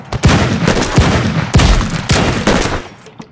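Rapid bursts of video game gunfire in Madness Combat Project Nexus, loud close shots cracking in quick succession with short gaps before trailing off at the end.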